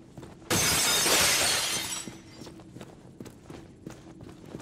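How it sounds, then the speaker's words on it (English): Loud burst of shattering glass in the shooter Trepang 2, a dense crash that lasts about a second and a half and then fades into scattered footsteps and light clatter. "is a lot of glass breaking I gotta do"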